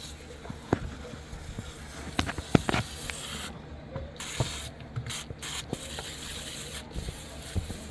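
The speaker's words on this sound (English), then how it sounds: "get the coil covered and sprayed, and what we're using is Evaporator Fresh, no rinse" Evaporator Fresh no-rinse cleaner sprays onto an air conditioner's evaporator coil in repeated hissing bursts, some short and some sustained, with light rubbing and clicking noises between them.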